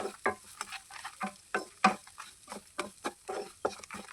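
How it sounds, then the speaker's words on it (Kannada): Ground coconut powder fries in a pan while a spoon stirs it, giving repeated scraping strokes in an irregular rhythm over a soft sizzle, close up and clear with no voices. "ಈ ರೀತಿ ಹಾಕ್ಕೊಂಡು ನಾನು ಚೆನ್ನಾಗಿ ಇದನ್ನು ಫ್ರೈ ಮಾಡ್ಕೊಳ್ತೀನಿ ಸ್ವಲ್ಪ ಹೊತ್ತು"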